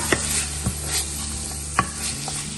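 Butter, ginger and garlic stir-frying in a heated 12-quart electric roaster, a steady close sizzle broken by a few sharp spatula scrapes and clacks against the pan, with no talking.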